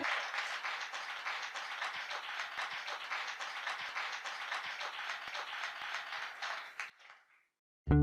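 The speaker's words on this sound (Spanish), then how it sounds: "Dale ese aplauso al Rey," A church congregation claps for the King at the close of a sermon, a dense, even roar of many hands for about seven seconds before it fades out into silence.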